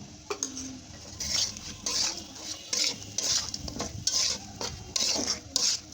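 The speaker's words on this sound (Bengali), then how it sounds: "তো নেড়ে চেড়ে দিচ্ছি বন্ধুরা।" A spatula stirs onion paste and taro stolons in a pan, making a rhythmic run of close metallic scrapes and clanks over a soft background sizzle.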